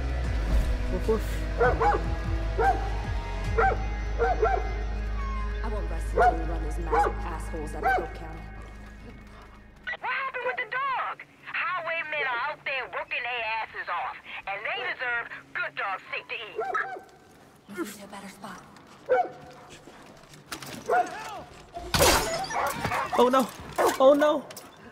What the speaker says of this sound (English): Pet the dog.